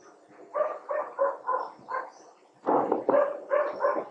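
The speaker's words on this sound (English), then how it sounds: "Sorry about the dog barking in the background." Stray dogs bark in the background, two rapid series of repeated, mid-distance barks separated by a short pause, with no talking over them.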